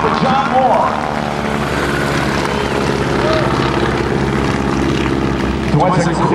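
Propeller stunt airplane flying aerobatics at an air show, a loud droning engine with shifting pitch as it climbs and rolls, while an announcer talks over it.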